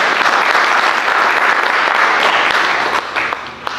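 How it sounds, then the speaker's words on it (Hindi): A crowd at a political gathering bursts into loud, dense applause for a former director general seated among them, a close roaring wash of clapping that holds steady and then begins to thin near the end. "और मैं चाहूंगा कि इनके नाम पे भी एक जोरदार तालियां हो जाए।"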